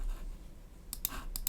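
Computer keyboard arrow keys are pressed during graphic design work: after a near-silent pause, four crisp, quiet clicks land in quick succession. No one speaks.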